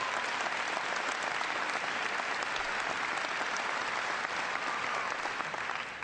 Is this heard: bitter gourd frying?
no